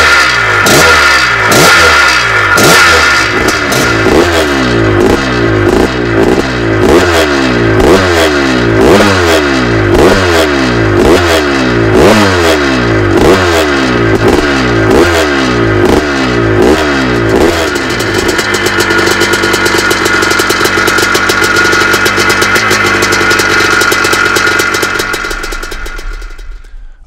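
A classic 490 Maico dirt bike engine runs loudly and close, revving in rapid repeated bursts for most of the clip before settling into a steady, high-pitched roar that cuts off at the end.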